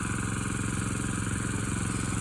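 An engine warming up to full operating temperature before snow runs at a steady, loud, close idle with an even pulsing throb and no other sounds.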